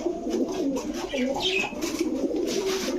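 Large long-distance pigeons coo inside a pigeon shop, a steady overlapping chorus of low throaty calls close by, with occasional higher chirps and faint background voices.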